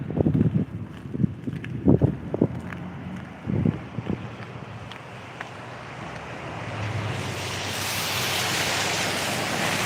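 Strong gusts of wind buffet the microphone in a town street, rising into a loud, continuous roar after a few scattered knocks and thumps in the first seconds.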